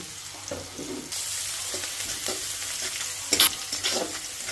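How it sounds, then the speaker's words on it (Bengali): Onion, garlic and green chili frying in hot oil give a steady close sizzle with stirring scrapes and a brief louder clatter near the end; no one speaks. "এখন গরম তেলে পেঁয়াজ, রসুন, হালকা কাঁচামরিচ দিয়ে লাল লাল করে নিব।"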